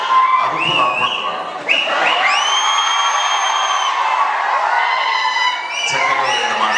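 A large audience at a film pre-release event shouts, whoops and cheers loudly and continuously, with shrill whistles rising above the roar and no clear speech.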